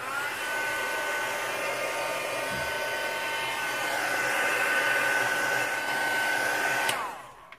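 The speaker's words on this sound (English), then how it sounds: "I'm just going to dry this ink off, which will take me a minute to do" A hair dryer blows to dry ink on a handmade card, a steady loud whirring hum that holds for several seconds, then cuts off abruptly near the end.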